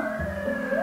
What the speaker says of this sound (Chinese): 你们听到救护车的声音？